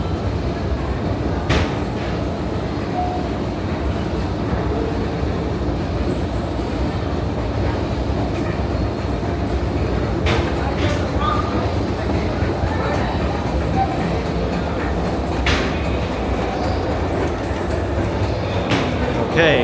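A New York City subway train rumbles loudly and continuously, with scattered sharp clanks and rail clicks over a steady roar.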